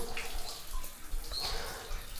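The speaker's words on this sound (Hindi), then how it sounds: "देखिए शिवलिंग पे हमेशा यहाँ पे पानी गिरता है ताकि भोले जी का गुस्सा शांत रहे" Water constantly falling and splashing onto a Shiva lingam inside a fort temple, a steady close trickle and splatter that runs on without pause.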